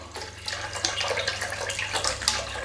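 Tap water pours steadily into a pot being filled for poaching eggs, a continuous broadband splashing rush at moderate level with no talk.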